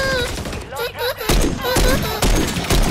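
A sniper rifle fires in Modern Warfare 3, with several heavy, booming shots spaced about half a second apart, preceded by warbling whistle-like tones, loud and close.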